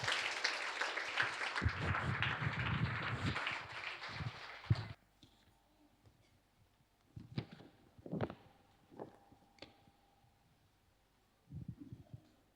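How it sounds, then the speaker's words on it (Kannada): A church congregation claps loudly together to welcome a pastor, a dense burst of applause lasting several seconds before stopping abruptly, followed by a few scattered faint sounds and near-silence. "ಜೋರಾಗಿ ಚಪ್ಪಾಳೆ ತಟ್ಟೋಣ ಎಲ್ಲರೂ"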